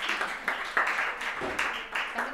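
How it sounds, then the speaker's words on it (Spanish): Audience applause at a book presentation, a roomful of hands clapping in uneven bursts for a couple of seconds, close and fairly loud with no speech over it. "Sí, un aplauso."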